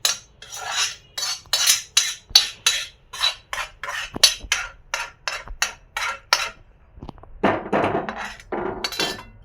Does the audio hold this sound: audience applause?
no